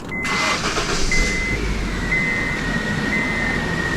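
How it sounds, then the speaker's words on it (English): A car engine started with a Gooloo GP4000 jump starter: a short burst at the very start gives way to a steady running engine with a thin whine, loud and close, with no talking. "Push the boost button, and I've got about 14 volts now, so the car should start."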